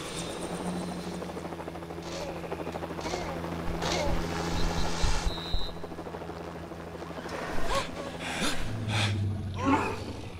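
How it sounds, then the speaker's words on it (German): A helicopter arrives in the Lego Jurassic World video game, its rotor buzzing steadily under game sound effects and scattered voices, with thumps and whooshes rising and falling over the drone. "Es kommt noch ein Hubschrauber."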